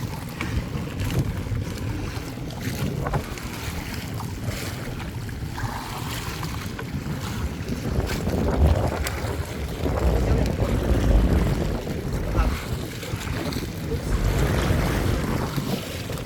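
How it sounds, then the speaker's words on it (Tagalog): Rough sea during a storm, with steady wind buffeting and water washing around a small boat out at sea, a continuous dense roar that swells and surges throughout. "Maalon guys, maalon."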